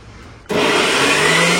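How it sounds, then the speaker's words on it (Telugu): A kitchen mixer grinder coarsely grinding pieces of chicken, starting abruptly after a brief quiet moment and then holding a loud, steady, close motor whir with a grinding rasp. "ఇది కూడా కచ్చా పచ్చా మిక్సీలో రుబ్బుకోవాలి"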